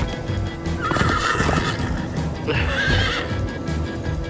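Horse in the Minecraft Story Mode video game gives two sharp, close whinnies over quick galloping hoofbeats, loud and forward.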